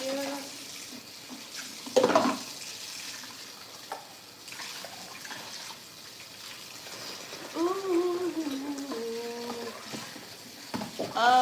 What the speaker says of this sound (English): Let's do some dishwater here.